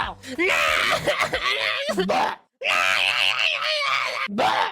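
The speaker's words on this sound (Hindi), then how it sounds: "और उनका वो बच्चा रो रो के अलग घर भर देता है।" A baby who has just woken up cries loudly in strained, wailing bursts that carry on almost without a break, with one brief gap midway before the crying resumes.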